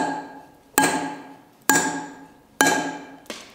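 Hammer strikes a point chisel on carving stone in three sharp, ringing metallic blows about a second apart, each decaying slowly, with a lighter fourth tap at the end.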